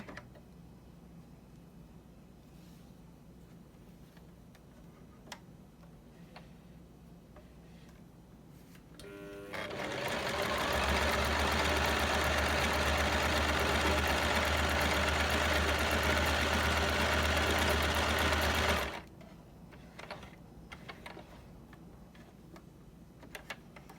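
ZEN ZN1101 domestic sewing machine stitching a J pattern: quiet room, then a loud steady mechanical whirring run of about ten seconds that stops abruptly, with faint clicks before and after.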